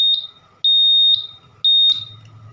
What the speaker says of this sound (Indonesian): Dia akan berkedip, indikator smart key, buzzer juga akan nyala.